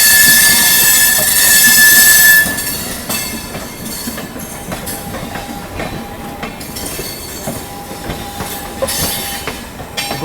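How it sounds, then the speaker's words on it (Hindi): Gomti Nagar Jaipur Express arriving at Kanpur Central station: a loud rolling rumble with high wheel squeal at first, then steady clattering and brief squeaks as the train passes close by. "गोमती नगर जयपुर एक्सप्रेस अराइवल ले रही है दोस्तों।"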